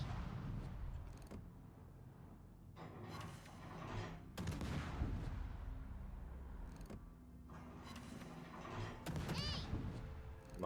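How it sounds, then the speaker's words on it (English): Warship guns firing at destroyers in a naval video game: several heavy booming salvos spaced a few seconds apart, each with a sharp crack and a rumbling tail, under low game ambience. "Time to blind shoot some destroyers"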